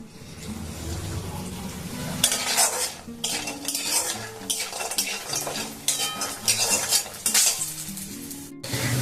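Loud sizzling and popping of lentil dumplings frying in oil, mixed with repeated scraping and clinking of a spoon against the pan.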